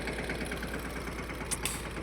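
A tractor fitted with a rotary attachment idles steadily nearby, a continuous low mechanical rumble with even engine pulses and no talking.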